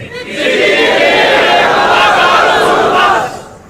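A large congregation at a Friday sermon chants a religious slogan back in unison, a loud, sustained block of many voices lasting a few seconds before fading out.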